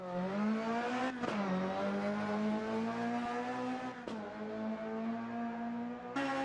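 A Lada rally car accelerates hard along a tarmac stage at an old airfield, its engine screaming loudly through the gears with rising pitch and abrupt drops at each shift, alone with no talking.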